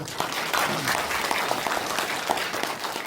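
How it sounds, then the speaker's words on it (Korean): An audience applauds at a political information session on a city merger, a dense, steady round of clapping from a crowded hall, with faint voices underneath. "박수 한번 보내주세요"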